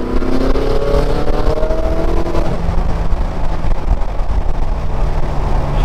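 A tuned Ferrari 488 accelerating hard in fifth gear, a loud continuous engine roar with rising tones that flattens into a heavy steady drone, heard from inside with no talk.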